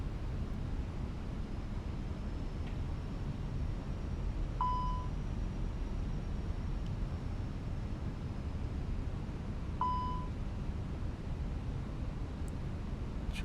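A warning beep sounds in an A320 cockpit in a flight simulator game, two short tones about five seconds apart over a steady loud hiss of engine and air noise.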